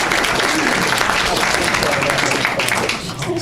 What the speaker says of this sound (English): I would appreciate a round of applause.